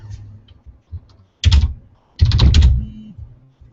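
Fingers tap on a computer keyboard up close, with a few scattered soft keystrokes followed by two dense, rapid bursts of loud clacking.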